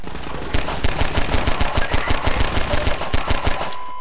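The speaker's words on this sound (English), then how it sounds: "They're shooting me!" Enemy gunfire aimed at the player in Half-Life 2, a rapid, loud automatic burst of evenly spaced shots sustained almost without pause for several seconds, close and dominant.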